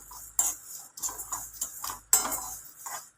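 Dabeli masala spices dry-roasting in a pan, heard as light scattered clinks and scraping ticks of a spoon against the metal, close and fairly quiet, with no talk.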